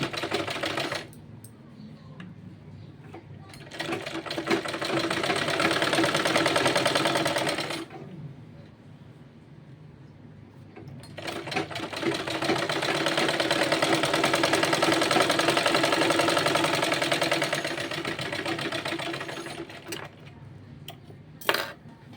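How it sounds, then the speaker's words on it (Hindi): A sewing machine topstitches the collar of a child's kurta, running in two long steady bursts of several seconds each with a quiet pause between, close and even in tone. "यहाँ से इसको सिलाई चलाना है, ऊपर दाब सिलाई"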